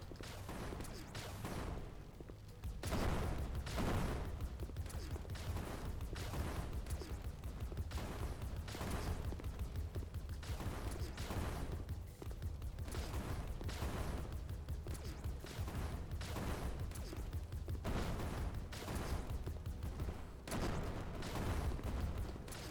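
Automated turrets in a video game fire steadily for the whole stretch, a dense run of sharp repeated gunshot bursts with booming low impacts, loud and continuous with brief lulls.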